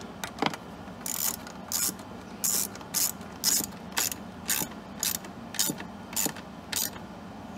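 Ratchet wrench tightening fittings on a Honda EU6500is generator during a propane and natural gas conversion, a steady run of about a dozen crisp, evenly spaced clicking bursts, close and clear with no talk.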